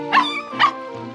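A cartoon puppy gives two quick, high, bright yips in a row followed by a softer whimpering tail, close and clear with no talk around it.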